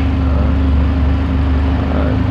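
A used 2015 motorcycle with about 19,000 km on it idles smoothly, its steady low engine hum running alone at close range for the whole stretch.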